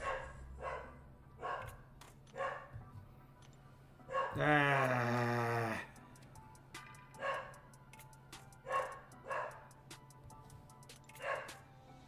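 Dogs barking in the background of a home where someone is playing a mobile game live, short barks recurring every second or so across the whole stretch, moderately loud, with a brief louder burst midway and a short exclamation from a person.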